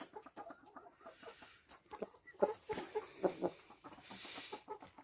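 A rooster clucks nearby in a series of short, irregular low calls, fairly quiet, with no other sounds around it, in a chicken coop.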